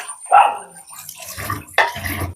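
Water drains off washed pumpkin leaves into a perforated metal strainer pot, heard as a couple of short splashing, dripping bursts with quiet gaps between them.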